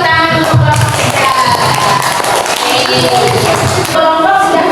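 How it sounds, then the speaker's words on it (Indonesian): A classroom of students claps loudly and steadily for a group that has just presented, a dense continuous patter of many hands filling the whole stretch, with faint voices mixed in. "tepuk tangan untuk kelompok 3"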